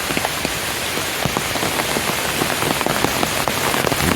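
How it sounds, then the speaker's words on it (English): Heavy rain pours through a forest during a thunderstorm, a dense, loud, continuous hiss with scattered sharper drops striking nearby surfaces. "You can hear the rain. Here it comes."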